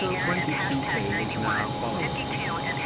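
A loud, steady airplane engine drone fills the scene, with a voice talking over the constant roar.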